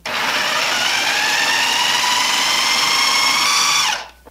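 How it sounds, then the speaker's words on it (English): A food processor fitted with an S-blade whirs at a steady high pitch, loud and close, while mixing coconut palm sugar for a cinnamon bun crust, then cuts off abruptly. "And I'm just going to use the food processor here with the S-blade."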